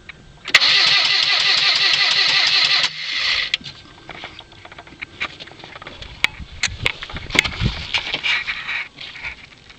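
A 1997 Saturn car engine cranks but fails to start, giving a loud, steady rhythmic starter whir for about two seconds before cutting off, followed by scattered clicks and knocks.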